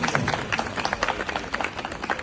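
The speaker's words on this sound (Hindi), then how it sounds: "तालियां बजती रहनी चाहिए।" Audience applause at a Bharatiya Yog Sansthan foundation day ceremony, a steady patter of many hands clapping throughout, fairly close and busy, with faint crowd murmur mixed in.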